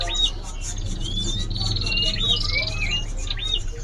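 Caged songbirds at a bird seller's stall chirp and whistle in quick, bright repeated phrases close by, with a low steady hum underneath.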